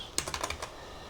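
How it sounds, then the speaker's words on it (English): Quick typing on a computer keyboard while entering a name: about six to seven crisp, close key clicks in a short rapid burst, then quiet. "Let me just type it straight."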